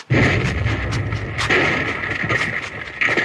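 Gunfire bursts in a radio western drama, loud sharp cracks repeating irregularly over a dense rumbling background of running and commotion, with no clear talk.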